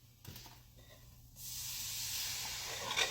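Liquid poured into a hot pan of Cajun chicken and rice for a creamy sauce sets off a steady, loud sizzling hiss that swells suddenly after a quiet start and holds to the end.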